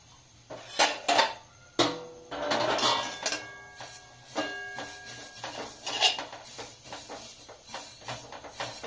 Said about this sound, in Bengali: ওভেনটা কমিয়ে এইভাবে হালকা হালকা ভাবে নেড়ে নিতে হবে